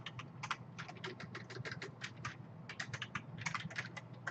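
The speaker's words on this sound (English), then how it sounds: "I'm going to type my name" Fingers type a name on a computer keyboard, a steady run of close, crisp key clicks with brief pauses between bursts over a faint low hum.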